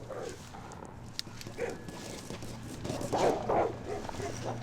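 Dogs behind a door bark in muffled, scattered bursts, somewhat distant and under people talking.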